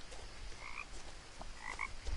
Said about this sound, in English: Could have been a frog.